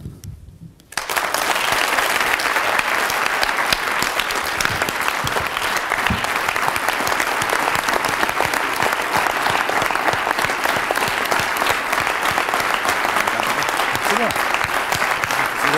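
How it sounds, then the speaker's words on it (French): Loud, sustained audience applause at a company event honoring a departing chief executive, starting abruptly after a short quiet moment and holding steady as a dense wall of clapping throughout. "C'est ça qu'on applaudit là."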